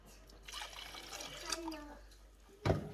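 Water trickles and pours quietly into a container while a Cambridge Diet shake is being prepared, ending in a louder clunk as something is set down; faint background noise, no clear talk.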